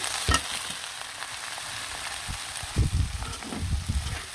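Onion and garlic frying with chunks of potato and gourd in a pan, a steady close sizzle with occasional stirring knocks and louder spurts toward the end, without talking.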